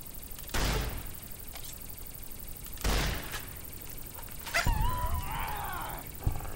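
Wolf in Fallout New Vegas, several sharp barks and bursts spaced a second or two apart, with a high yelping whine near the end, moderately loud against a low background.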